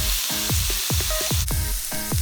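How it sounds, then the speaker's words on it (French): Meat browns in a pan over high heat for jjajangmyeon, making a loud, close, continuous sizzle with repeated short squeaky scrapes as it is stirred. "Faites chauffer une poêle à feu fort et faites revenir la viande."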